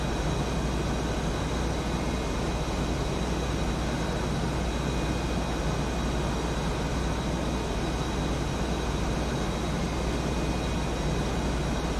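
Bell 429 helicopter engine and rotor in a flight simulator game, a steady, loud, unbroken broadband roar with faint high tonal whine lines holding throughout.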